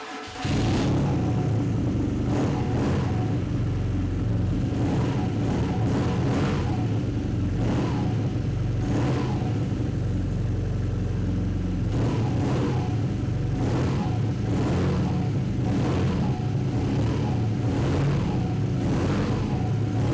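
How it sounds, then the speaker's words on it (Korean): A 2018 BMW R nineT Urban GS motorcycle with a stock Akrapovic muffler on its air-cooled engine, idling with a deep rumble while the throttle is blipped repeatedly into loud, sharp revs at a close distance. "순정 머플러의 배기 사운드 한번 들어보고요"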